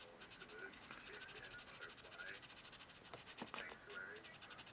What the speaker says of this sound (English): So I'm going to grab some maybe 600 or 800 grit and rub that back till she's nice and smooth.